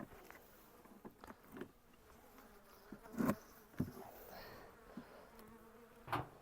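Faint buzzing of honey bees close by, soft droning with occasional louder passes and light knocks and rustles of hive frames in a quiet space.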